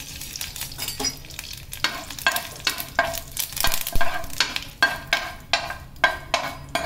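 Curry leaves sizzle and crackle in hot oil while tempering for a mint chutney, with a run of sharp spattering pops and bursts over a constant frying hiss, close and fairly loud, with no voices.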